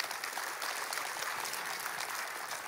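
A church congregation claps together in a steady, even patter of many hands, moderately loud and continuous throughout.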